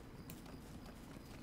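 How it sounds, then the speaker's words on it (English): Horse hooves clip-clop at a steady walking pace as a mount travels in the Lord of the Rings Online fantasy game, faint and even beneath a soft ambient backdrop. "You're on your horse all riding around all fancy schmancy and shit."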